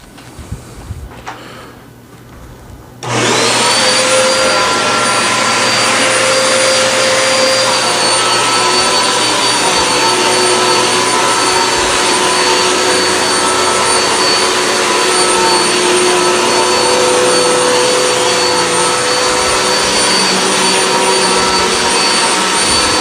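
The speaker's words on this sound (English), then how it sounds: "the Hoover has just brought the fibers right back up" A Hoover High Capacity upright vacuum cleaner switches on after a quiet start and runs loud and steady across dirty, matted carpet, with a constant whining roar and high-pitched tone holding unchanged to the end.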